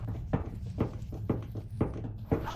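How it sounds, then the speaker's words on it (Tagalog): Five evenly spaced, soft thudding footsteps of someone walking behind a closed door, muffled and moderately distant, with a low background hum and no voices. "May naglalakad dyan sa likod ng pinto na yun."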